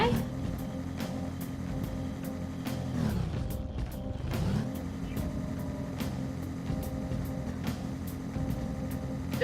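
A cartoon cat-bus car from the video game Persona 5 drives into a wall: a steady, droning engine hum that dips and swoops back up around the midpoint, then settles into the same loud, continuous rumble, with faint voices underneath.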